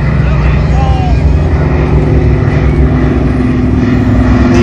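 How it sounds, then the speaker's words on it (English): Piston engines of a B-17 and a C-47 drone loudly and steadily at an air show, a thick low rumble with throbbing pulses, close by and continuous throughout. "The B-17 and the C-47, the sound is just majestic."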